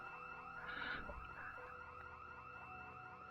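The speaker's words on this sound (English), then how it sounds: "why is there a burglar alarm in that crypt?" An alarm rings inside an underground crypt in the zombie game Project Zomboid, a steady, loud electronic tone with stacked harmonics that holds through the whole moment, with a brief extra swell near the start.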